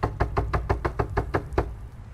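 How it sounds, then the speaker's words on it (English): Knuckles rap steadily on a door in the horror video game The Quarry, eight or nine evenly spaced sharp knocks close up, alone with no talk over them. "Try knocking louder."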